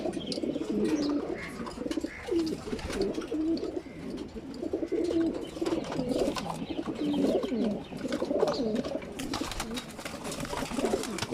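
Racing pigeons feeding together coo in a continuous layered chorus, many soft rolling calls overlapping close by with light chirps and rustling beneath.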